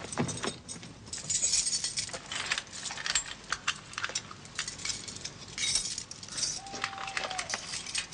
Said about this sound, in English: Produce the skeleton keys.